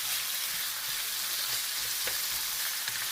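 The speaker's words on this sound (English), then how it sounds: "We're doing like a quick stir fry." Fajita ingredients stir-frying in canola oil, a continuous bright sizzle with occasional soft crackles and pops, close and steady, without talk.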